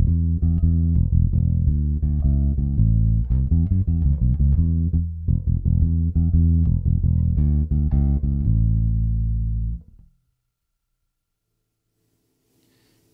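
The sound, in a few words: bass guitar played with a modern rock tone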